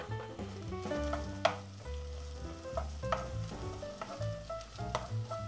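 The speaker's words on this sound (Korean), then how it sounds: "먼저 기름을 두른 팬에 대파를 넣고 파기름을 만들어 주겠습니다" Green onions fry in an oiled pan for Korean kimchi fried rice, giving a steady close sizzle with scattered crackles and the clack of a utensil stirring.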